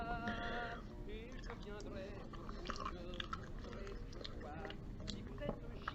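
Pie with commercial crust dipped in creamy French dressing, chewed close to the mic with soft, moist crunching and biting in an uneven rhythm, while other sounds and faint voices run underneath.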